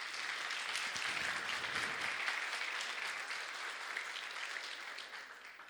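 A church congregation at a Pentecostal service applauds in a dense, steady wave of clapping that tapers slightly toward the end.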